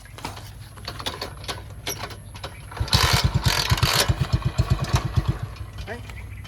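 A motorcycle is kick- or key-started and settles into a quick, thumping idle, beginning after a few seconds of quieter background and continuing with steady, loud rhythmic pulses to the end.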